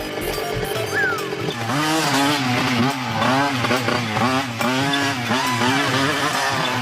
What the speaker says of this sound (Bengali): আমি স্পিড বাড়াচ্ছি।